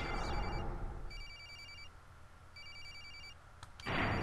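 A telephone rings in the horror video game Corpse Party, its electronic trill sounding in two clear bursts with a pause between, fairly close and alone against a low ambient hum.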